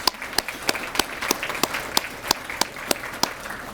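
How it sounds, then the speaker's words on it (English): Audience applause at a community college scholarship breakfast, where a modest room of people claps steadily, with single sharp claps standing out over a continuous patter. "So let's give them a round of applause."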